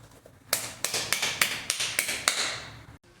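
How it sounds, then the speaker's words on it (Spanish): Scattered hand claps from a small audience: about eight sharp, evenly spaced claps at close range, ending abruptly. "aplaudamos a este sistema ternario"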